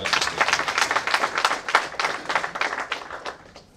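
A crowd applauds CorpsAfrica at the Rwanda Project Demo Day 2023, dense clapping that holds steady and fades toward the end.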